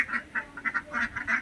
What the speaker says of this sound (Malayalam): ഒരു 5-8 താറാവുണ്ട്.